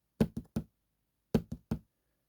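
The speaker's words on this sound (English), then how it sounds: "3 pulsating hearts just beating in unison, one after" Two groups of three quick, dull thumps from three hearts beating one after another, like a heartbeat pattern, separated by a short pause.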